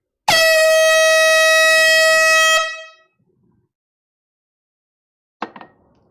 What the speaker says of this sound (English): Let's bring out the air horn.